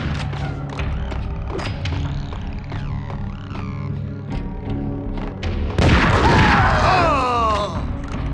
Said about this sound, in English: Is somebody throwing grenades? Like, what's that noise?